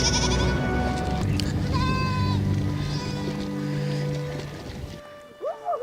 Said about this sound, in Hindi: नदी का सबसे कम चौड़ा हिस्सा ढूंढकर अपनी भेड़ों को ये नदी पार कराते हैं